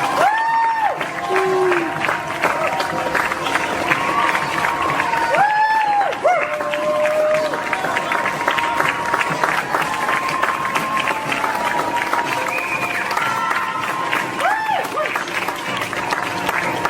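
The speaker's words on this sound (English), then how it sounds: "So a round of applause for us." A crowd at the Leeds Royal Armouries museum claps and cheers outdoors, a sustained patter of applause with scattered shouts and voices over it, continuing for the whole stretch.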